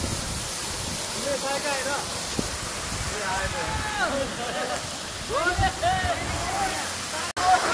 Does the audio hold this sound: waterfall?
yes